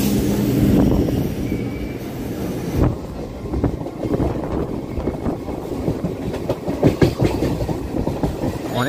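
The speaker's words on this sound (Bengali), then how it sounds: "ট্রেনটা এখন চলে গেল।" A passenger train running along railway tracks, heard from on board with wind buffeting the microphone: a steady rumbling roar with rhythmic clickety-clack of wheels over rail joints, loud and close.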